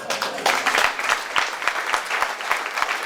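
Audience applause at a garden launch event for a children's group called the Slug Club, a lively outdoor crowd clapping loudly and continuously, with individual claps standing out as it tapers slightly.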